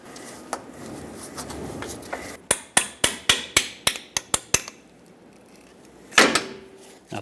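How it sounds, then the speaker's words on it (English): Metal sway bar brackets are knocked loose on a 1997-2006 Jeep Wrangler: about ten sharp, evenly spaced strikes ring out in quick succession, followed by a louder clank. "Pop these brackets off."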